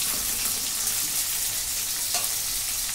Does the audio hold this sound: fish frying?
yes